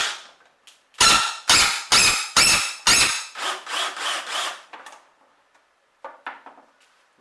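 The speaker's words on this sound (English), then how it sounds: "we're using the drill to spin it much faster, and then this will heat it up" A drill spins a bolt inside a plastic casing during front-end work on a Mini Cooper R56, giving a series of loud, harsh whirring bursts, several near-rhythmic pulses and then fainter short buzzes after a pause.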